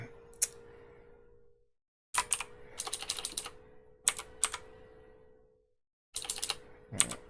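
Bursts of typing on a computer keyboard while setting up a TP-Link Archer AX50 router: quick clusters of close, crisp key clicks separated by short quiet pauses, with no talking.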